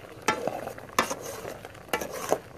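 A pot of mixed mushroom curry bubbling on the heat while being stirred, three distinct scraping strokes against the pot over a soft simmering bed, fairly quiet.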